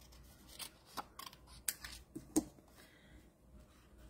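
Scissors trimming the edges of stamped paper flower petals make a series of quiet crisp snips, spaced irregularly and close by.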